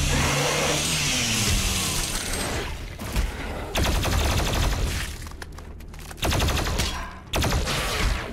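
Enemies fire sustained bursts of gunfire in Doom Eternal, dense rattling volleys over a loud roaring backdrop, broken by brief pauses before the shooting resumes.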